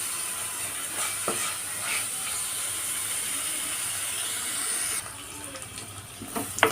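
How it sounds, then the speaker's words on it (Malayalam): Sliced carrots sauté in a hot pan, a steady sizzle running throughout with occasional stirring scrapes of a spoon, the sound dropping slightly lower toward the end. "ഇതുപോലെ ക്യാരറ്റ് ഒന്ന് വഴറ്റി എടുത്താൽ പെട്ടെന്ന് വെന്ത് കിട്ടും"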